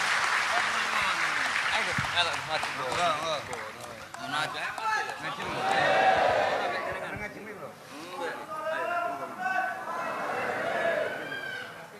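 Audience applause at an Islamic study gathering (ngaji) with a cleric, a dense crowd clapping that swells and fades over several seconds, mixed with chatter and voices.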